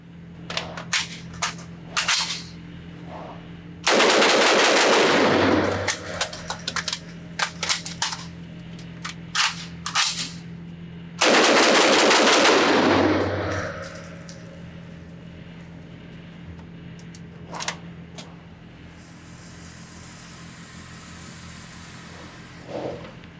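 A PTR-91 .308 short-barreled rifle firing at an outdoor range: two loud, close bursts of rapid shots separated by a long gap, with sharp metallic clicks and clatter of handling between them.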